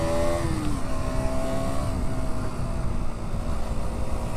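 A KTM Duke 125 motorcycle accelerates on the road, its engine note climbing steadily through the gears over constant loud wind and road rumble, with no voices.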